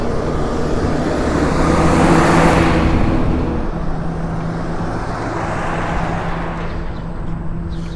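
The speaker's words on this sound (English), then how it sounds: "I don't know why cars are so loud today" Heavy road traffic sweeps past close by as a loud, steady roar of car engines and tyres, swelling briefly and then holding level throughout with no talking.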